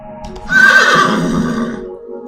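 A horse sound effect whinnies loudly and close, a single shrill neigh that rises, wavers and trails off over about two seconds, with no other sound around it.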